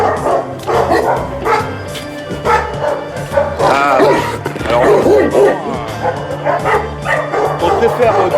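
Dogs bark and yip at a refuge where some dogs are kept apart, with repeated close barks and whimpers mixed with a person speaking over them.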